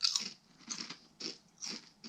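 Close, crisp crunching of kettle-cooked potato chips being bitten and chewed, in four or five distinct bursts with short quiet gaps between.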